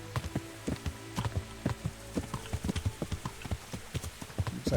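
Horse hooves clip-clop steadily while riding in the video game Kingdom Come: Deliverance, a close, rhythmic trot of repeated hoof strikes with no talk.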